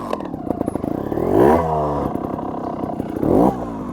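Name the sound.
trials motorcycle engine revving for a wheelie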